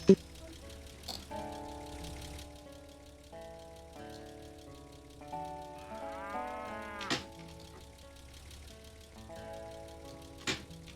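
Cows mooing in a farm video game, several drawn-out tonal moos layered with other game sounds and a few sharp clicks, with people talking at times.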